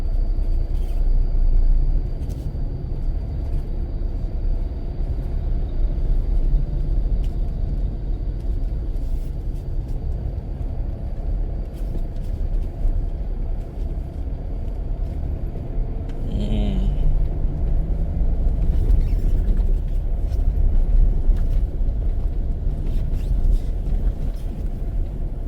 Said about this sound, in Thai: ในรถปูนเนี่ยมาเทนี่น่าจะกำลังปูนี่แหละกำลังเริ่มปูนะ